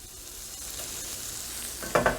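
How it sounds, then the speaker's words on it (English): Bacon sizzling in a frying pan as its fat renders, a soft continuous hiss that rises briefly near the end with a couple of louder crackles, heard close and with no voices. "that little sizzle sound means that we are getting some of that fat rendered out"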